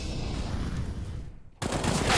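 Gunfire in a Counter-Strike: Global Offensive match, a dense rattle of rapid shots that drops off briefly and then returns louder.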